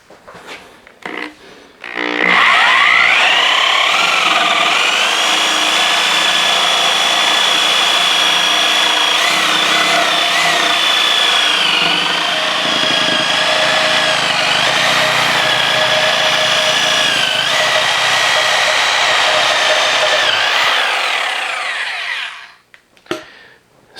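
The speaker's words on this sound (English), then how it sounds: "I might have to use the Sawzall a little bit more often in furniture making." Sawzall reciprocating saw cutting through a heavy chunk of wood for a step stool, one loud continuous buzzing cut of about twenty seconds that starts and stops abruptly, with no dust collection running.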